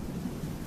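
Thunderstorm with thunder, a low continuous rumble mixed with rain noise, steady and fairly faint over a brief moment.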